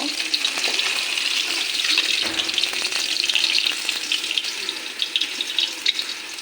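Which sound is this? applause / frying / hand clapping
frying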